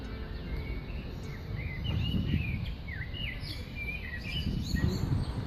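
House sparrows chirp in Paris, thin scattered calls and short tweets at a moderate distance over a constant low city rumble, with no voices.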